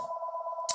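A telephone rings indoors as one steady electronic two-tone trill, close and fairly loud, cut off by a sharp click near the end, with no one talking.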